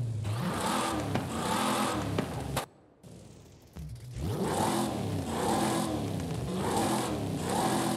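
A car engine in Forza Horizon 5 revs hard with a high, whiny induction pitch. It drops off sharply for about a second, then revs back up loud and sustained, with no talking over it.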